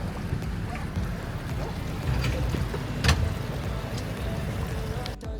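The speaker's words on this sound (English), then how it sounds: "boats coming and going" Low rumbling boat engines and water noise at a busy beach port in Boracay, with wind buffeting the microphone and a brief louder surge midway.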